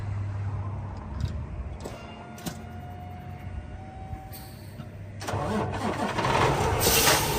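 A 2016 Peterbilt 579 semi truck's big diesel engine cranks and fires up, then settles into a loud, rumbling idle; the starter whine precedes the catch.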